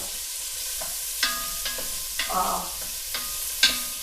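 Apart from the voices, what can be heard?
onion and garlic sautéing in warm butter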